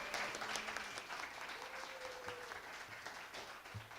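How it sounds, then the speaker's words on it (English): Audience applause at the Laramie International Food Festival, a steady wash of clapping from a crowd filling the whole stretch at moderate level, with a few faint voices and a brief tone drifting through. "So let's give her a big round of applause"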